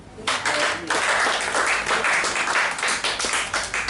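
A church congregation claps and applauds in dense, sustained bursts that start abruptly and carry on loudly to the end, with voices mixed into the crowd noise.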